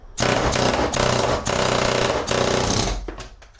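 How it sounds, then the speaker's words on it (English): An air chisel pops the heads off screws on a hot rod during fuel gauge work: loud, harsh rapid hammering in three sustained bursts separated by brief pauses, close up. "we're going to try just popping the heads off these screws"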